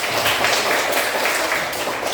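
Schoolchildren clapping their hands in an elementary school classroom, a steady close wash of many small hands applauding throughout.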